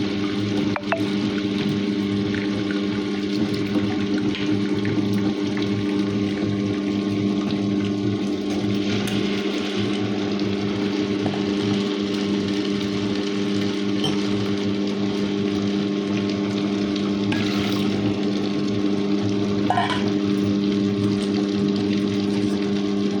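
A steady mechanical hum and whir runs throughout with a constant low drone and faint sloshing, a wet grinder churning soaked urad dal and fenugreek into idli and dosa batter, no voices.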